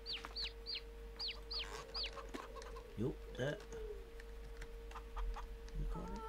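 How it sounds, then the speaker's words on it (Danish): Chickens cluck on a Danish farm: short, repeated clucks and chirps close by in an outdoor setting, while someone says a couple of words. "Jeg synes altså, det lyder som om, der er nogle kyllinger her."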